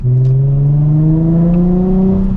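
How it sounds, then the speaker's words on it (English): A Nissan 350Z fitted with a Megan Racing exhaust drones loudly and steadily close up, its engine pitch climbing smoothly through a downshift with a strong, continuous exhaust note. "Monstrous downshifts."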